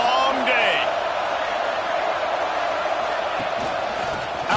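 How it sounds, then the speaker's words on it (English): A college football stadium crowd roars at full throat, a steady, loud, enveloping wall of noise that holds for several seconds, with a brief whistle-like tone near the start. "This crowd, full throat, splitting the eardrums"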